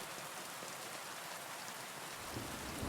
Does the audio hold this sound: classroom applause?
no